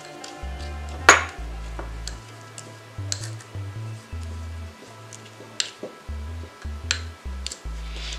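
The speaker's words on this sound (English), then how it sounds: "So you're going to take some time to mix this up very well." Baking soda teeth-whitening paste mixed in a small dish, with light clinks and ticks of a utensil against the dish at irregular intervals, one sharper knock near the start, over quiet background hum.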